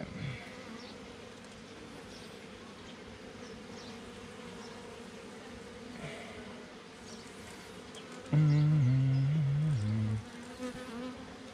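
Honeybees buzz at an open hive during a June check, a dense close hum throughout, with one louder bee droning right by the ear for about two seconds near the end.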